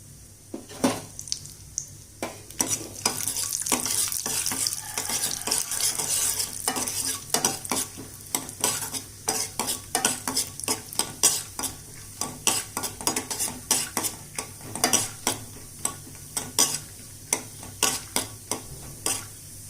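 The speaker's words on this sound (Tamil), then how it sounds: "அதில் முந்திரியும் ஒரு 5-6 பாதாம் கட் பண்ணி வச்சுருக்கேன், அதை சேர்த்து வறுத்துக்கலாம்" Cashews and almonds fry in hot ghee, a bright continuous sizzle overlaid with rapid, repeated scraping clicks of a spoon stirring against the pan, growing more rhythmic toward the end.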